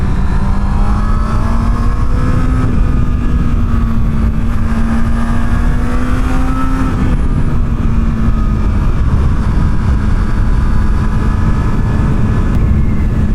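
A motorcycle engine runs steadily and loudly while being ridden, its tone holding at a constant pitch with a slight rise and fall, backed by continuous wind and road rush.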